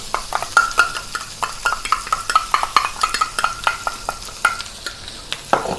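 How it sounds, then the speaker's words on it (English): Beef and onions stir-fry in a wok with black bean sauce, a steady loud sizzle under rhythmic clanks and scrapes of the spatula, close and with no voices. "stir fry until it's aromatic again"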